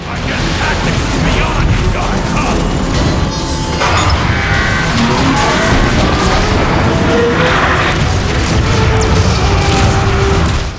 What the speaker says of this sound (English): Lots of explosions is a tactic.